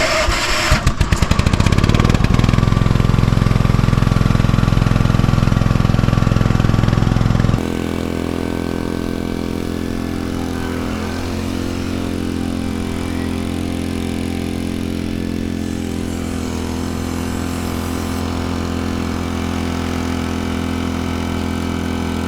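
A small utility vehicle drags a baseball infield, its engine idling loud and close, then dropping to a steadier, quieter running hum that continues alone for the rest of the stretch.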